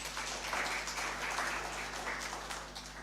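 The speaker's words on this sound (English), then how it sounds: "please give a clap to yourself." A crowd of guests at an indigenous seeds and food culture harvest fair applauds itself: steady, dense clapping from many hands, fairly distant and even throughout, with no voices on top.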